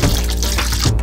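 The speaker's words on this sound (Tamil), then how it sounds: "இப்போ கரைச்சி வச்சிருக்க புளித்தண்ணியை எடுத்து ஊற்றிடுங்க." Tamarind water pours in a steady close stream into fish curry cooking in a pot, a continuous liquid splashing that lasts about a second.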